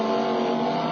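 Onboard sound of the number 16 GT race car at an FIA GT race at Homestead, 1999: a loud, steady high-revving engine drone with a dense harmonic buzz and no break throughout.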